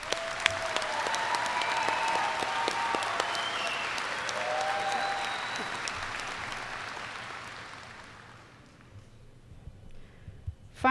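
Audience applause for students at a school district ceremony, a broad hall full of clapping with scattered cheers and whoops, sustained and then fading away near the end.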